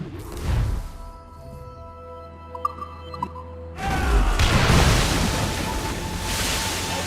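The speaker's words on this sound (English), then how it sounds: "Explosive shot to slow her. Fire!" A ship's cannon firing an explosive shot in the naval combat of Assassin's Creed Rogue, a sudden loud roaring blast breaking in over wind and ocean waves after a quieter stretch.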